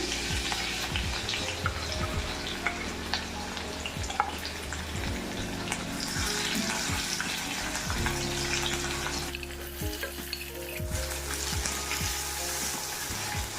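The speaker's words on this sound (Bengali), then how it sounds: "কড়াইতে সাদা তেল দেবো রসুন দিয়ে দিলাম একটা কাঁচা লঙ্কাও দিয়ে দিলাম" Steady sizzle of garlic and green chili frying in white oil in a kadai, with scattered crackles and occasional clinks of a utensil, no talking.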